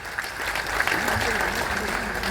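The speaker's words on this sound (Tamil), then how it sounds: "கைத்தட்டல் கொடுக்கலாம் மேடமுக்கு" A hall audience applauds a woman at the Tamil Nadu IT Hostel & PG Owners Welfare Association general body meeting, a dense wash of clapping running steadily through the brief moment with voices mixed in.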